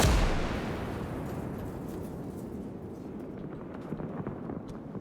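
A 380mm heavy gun fires in the WWII game Gates of Hell: Ostfront, opening with a loud, deep blast that fades into a long rumbling decay with scattered crackles.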